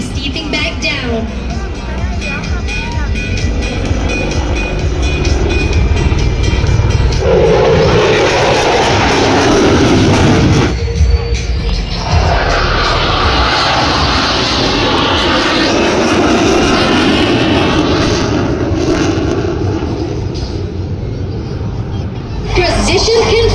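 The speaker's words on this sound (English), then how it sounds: "the F-16 will demonstrate its thrust and power with a multiplier in full afterburners" A military jet roars loudly through a flying display at the Singapore Airshow, a continuous powerful engine rumble and rushing thrust that swells and shifts as it passes, with a crowd murmuring and an announcer talking underneath.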